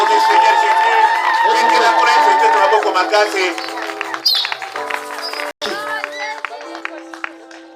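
A church congregation cheers and acclaims loudly, many voices shouting and calling out together, with scattered clapping before the crowd noise breaks up and thins out.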